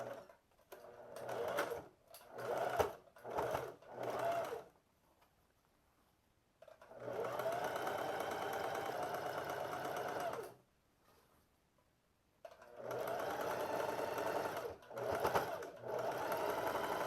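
A sewing machine stitching along the hem fold of pleated shorts, running in three bursts: several short stuttering runs, then two longer steady whirring stretches separated by quiet pauses.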